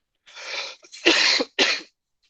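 A short bout of coughing up close from a speaker with the flu: a breathy rasp followed by two harsh, forceful coughs in quick succession.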